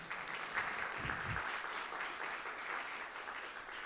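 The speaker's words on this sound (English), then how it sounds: "go ahead and applaud" An audience at an innovation awards ceremony applauds a named winner, a steady, moderately distant wash of clapping that holds evenly throughout without voices over it.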